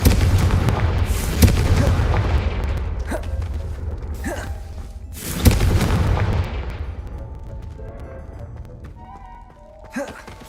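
Confringo blasting spell explosions in a video game, two heavy booming blasts a few seconds apart, each with a long rumbling decay, loud and close, with a voice heard around them.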